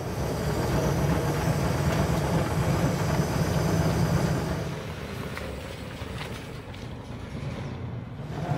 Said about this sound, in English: you can just hear that iconic flathead V8 sound thumpity thump thumping away